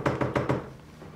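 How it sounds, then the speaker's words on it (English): Four quick, loud knocks on a door in an even rhythm, close and crisp, followed by a fading resonance and quiet. "Someone at the door."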